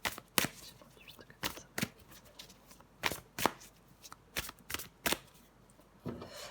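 Tarot cards being shuffled and drawn during a French weekly reading, heard as a series of sharp, quick riffles and snaps spaced irregularly, close and fairly quiet with no talking.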